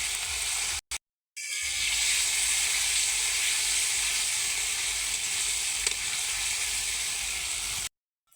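Stinging catfish (shing fish) frying in cooked-down spice masala for a bottle gourd curry, a steady loud sizzle with hissing steam running almost unbroken after two short gaps at the start, alone with no talk.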